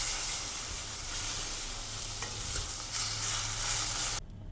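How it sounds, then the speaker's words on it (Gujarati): Yogurt being stirred into sizzling semolina upma in a hot pan gives a steady, close frying hiss with a low rumble, continuous throughout and cutting off abruptly near the end. "હવે આપણે તેમાં દહીં એડ કરી દઈશું। તેને આપણે મિક્સ કરી લઈશું।"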